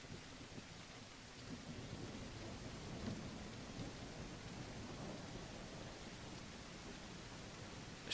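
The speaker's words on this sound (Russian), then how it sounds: "Вот, дождь пошел, прикиньте." Steady rain and rolling thunder fill a tactical shooter game called Exfil, a dense, even wash of downpour with low rumbles swelling underneath and no voices.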